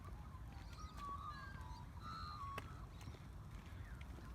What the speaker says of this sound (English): Those warbling birds you can hear is the Australian magpie, one of our lovely songbirds